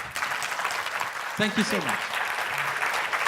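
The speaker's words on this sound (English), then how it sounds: "give them a nice round of applause" Audience applause fills the room at a conference learning session, a steady broadband wash of clapping that runs throughout while a voice speaks briefly over it near the middle.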